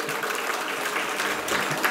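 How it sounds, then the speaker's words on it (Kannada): Audience applause welcoming actor Ramesh Aravind as a guest at a stage event, steady sustained clapping from a crowd that swells slightly near the end. "ಇನ್ನೂ ಜೋರಾದ ಚಪ್ಪಾಳೆ ರಮೇಶ್ ಅರವಿಂದ್ ಅವರಿಗೆ."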